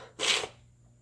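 A single short, breathy sneeze, close and fairly loud, lasting about a third of a second before quiet room tone.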